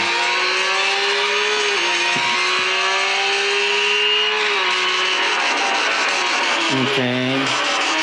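Racing car engines from a mobile racing video game played through a phone speaker, with a steady high revving whine shifting through gears, tire noise, and a voice talking over it.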